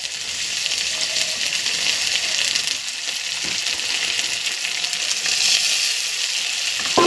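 Garlic paste hits a hot pan with oil, giving a steady, loud sizzle and frying hiss throughout, with occasional brief stirring scrapes and no talk.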